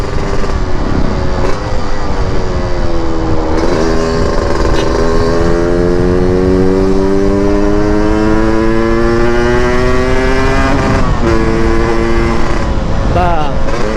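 A Yamaha RX-King two-stroke motorcycle roars along at speed, its buzzing engine note climbing through the gears with brief dips at shifts, heavy wind rush throughout.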